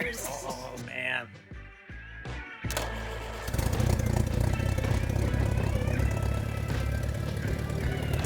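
A repaired engine runs steadily and loudly for the last several seconds after a brief lull, a rough continuous mechanical drone; voices talk over the opening moments.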